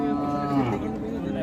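At the Sangola Khillar cow market, a Khillar cow gives a clear, fairly close moo over a steady murmur of crowd and livestock.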